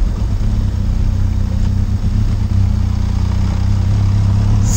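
Benelli TRK 502 X adventure motorcycle climbing an off-road hillside trail, its engine holding a loud, steady low drone with little change in pitch, mixed with wind rush.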